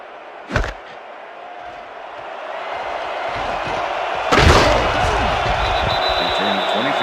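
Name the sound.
football kickoff in a video game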